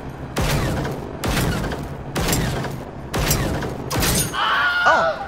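Five heavy gunshots from the video game Generation Zero ring out at steady intervals of about a second, each loud and booming with a long decaying tail. Faint mechanical clanking follows the last shot.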